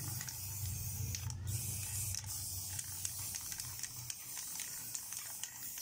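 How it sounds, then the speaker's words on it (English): Spray paint hisses steadily and faintly from an aerosol can while black paint is applied to an old rusty ten-year-old electric fan, a continuous airy spray with small mechanical ticks and creaks underneath. "So thoroughly spray it with the paint."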